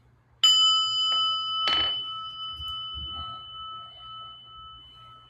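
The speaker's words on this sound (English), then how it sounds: "And the prayer bell." A single struck bell rings out clearly, then a second softer strike follows, its bright tone sustaining and slowly fading over a faint low hum.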